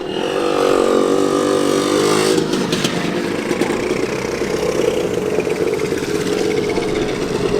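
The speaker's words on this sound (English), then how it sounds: "I can hear the two-stroke putter-putter of another scooter." Two-stroke scooter engines putter and rumble steadily nearby at a classic car outing, loud and continuous, with a slight rise and fall in revs and no talking.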